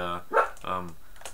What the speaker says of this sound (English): my dog's even objecting to this